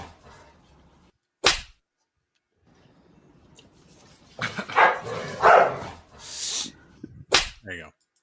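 A dog in a cat video gives a few sharp barks and yips, first a single sudden bark, then a cluster of loud barks and whimpers after a pause, fairly close.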